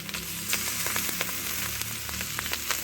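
Garlic and ginger paste frying in hot oil, a loud, dense continuous sizzle with crackling pops throughout, no voices.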